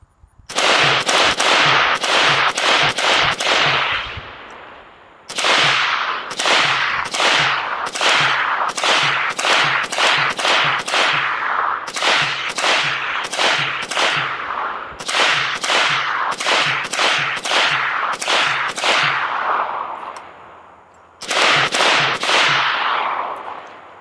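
Long bursts of fully automatic fire from a Century Arms AK63D AK-47 variant during a continuous-fire torture test, sharp loud cracking shots in rapid strings separated by brief pauses for magazine changes, with ringing tails, no voices.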